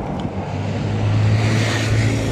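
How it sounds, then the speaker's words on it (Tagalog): Heavy traffic hums along a highway in Kuwait, a continuous broad roar of many passing cars heard from the roadside, steady and moderately loud without talk. "Maraming sasakyan."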